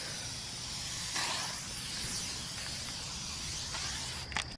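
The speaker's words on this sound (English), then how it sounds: "That was not sunscreen, that was bug spray." Bug spray hisses from an aerosol can outdoors in a long, steady spray that lasts almost the whole time. A brief rattle or clunk comes at the end.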